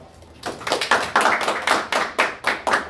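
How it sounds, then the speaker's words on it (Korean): A group of people in a classroom claps hands together in a quick burst of about a dozen sharp, close claps in an uneven rhythm, with no talk over them. "박수 한번 쳐."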